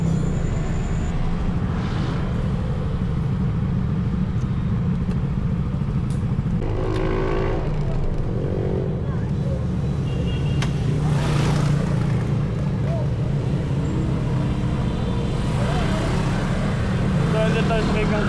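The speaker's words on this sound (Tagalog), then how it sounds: "Dito pa lang maririnig mo na yung mga tunog ng mga motor na pumapasok sa loob ng tunnel." Motorcycles drive through the Kaybiang Tunnel in Batangas, their engines droning and echoing off the tunnel walls, with occasional revs and passing vehicles under near-constant talk and chatter.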